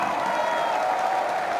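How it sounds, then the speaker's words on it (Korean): A crowd at a National Revolutionary Party event in Korea applauds in celebration of a presidential nomination. The clapping is steady, dense and even throughout the short stretch, with no clear breaks. "축하의 박수를 부탁드리겠습니다."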